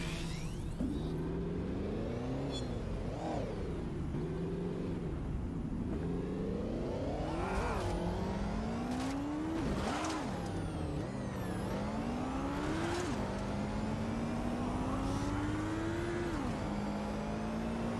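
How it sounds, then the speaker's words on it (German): Motorcycle riding in the video game Watch Dogs: Legion, an engine revving up and down continuously with rising and falling pitch as it accelerates and shifts, close and steady throughout. "Nee, wir fahren mal ein bisschen Motorrad."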